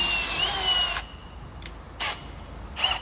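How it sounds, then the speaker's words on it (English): A power drill bores holes into a car, one long loud whine followed by two short bursts, close by with no talking. "You like drilling holes?"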